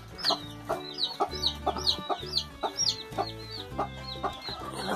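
A hen clucks near her nest with chicks on a small farm, repeated close clucks in an uneven rhythm with high chick peeps threaded above, no talking.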